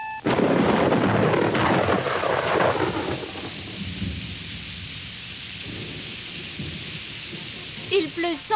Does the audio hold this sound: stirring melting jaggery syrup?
no